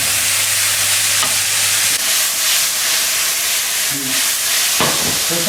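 Steady loud sizzle of sliced porcini mushrooms sautéing in smoking-hot olive oil in a pan, a constant frying hiss with faint stirring scrapes, close up and without talk.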